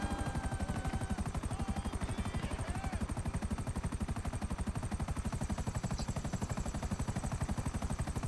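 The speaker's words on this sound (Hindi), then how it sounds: "हेलीकॉप्टर की स्पीड कुछ खास नहीं होती, लेकिन फिर भी हेलीकॉप्टर चलने में थोड़ा मजा आता है।" A helicopter in the GTA V video game flies with a loud, close, rapid rotor chop that pulses evenly and continuously under a steady engine whine, with no voices.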